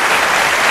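Studio audience applause for Mayor Rudolph Giuliani on a late-night talk show, a brief, loud, dense burst of clapping filling the room.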